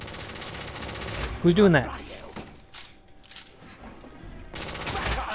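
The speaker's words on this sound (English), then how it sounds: "Ow, he shot me right in my face" Bursts of enemy gunfire in the video game The Order: 1886, a short volley near the start and again near the end, with someone talking over the action in between.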